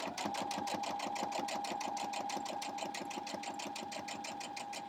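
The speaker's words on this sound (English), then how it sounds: "I'm actually sewing right on those dots, the salvage edge dots." A sewing machine stitches along the dotted selvage edge of scrappy non-cotton fabric on a fusible foundation, running steadily close up with a fast, even needle rhythm for the whole stretch.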